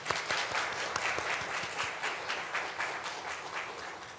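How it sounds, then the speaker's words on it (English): Graduates at a Native, Indigenous and Tribal graduation ceremony clap for themselves, a moderate, steady round of applause with individual claps audible, heard from within the crowd and fading slightly toward the end. "Please applaud yourselves."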